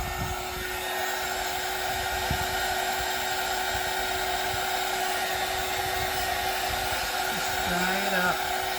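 A hair dryer blows steadily and fairly loudly to dry a freshly painted watercolor holiday card, its constant whooshing drone running for the whole stretch with no talk over it.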